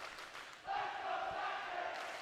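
Rival volleyball crowds in a school gym at a boys varsity match between Palatine and Schaumburg trade cheers, a brief shouting swell rising after a quieter start and holding loud and sustained.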